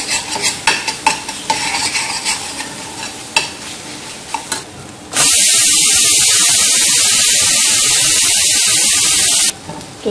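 Tadka tempering for dal cooks in hot oil, first with a spoon clinking and stirring in a pan, then a loud, steady close sizzle as it bursts into a harsh continuous hiss for several seconds.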